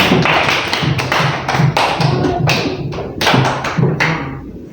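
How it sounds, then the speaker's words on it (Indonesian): A classroom full of children clapping for their classmates, loud and close, with dense overlapping claps and rhythmic bursts that rise and fall steadily throughout. "Tepuk tangan untuk anak-anak ini."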